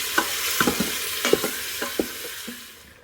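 Beef tips sautéing on a very hot Instant Pot surface: scattered wet sizzles and clacks of stirring, fairly close, fading as the pan cools, with no talking.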